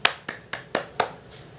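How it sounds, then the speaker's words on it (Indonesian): During a third-grade online music lesson, six crisp claps ring out close by at an even, brisk pace, each sharp and separate, the last one softer. "Tepuk tangan untuk anak-anak hebatku."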